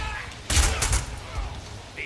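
Rapid burst of gunfire from gun katas in the Deadpool video game, a dense volley of shots starting partway through and fading, with game sounds around it.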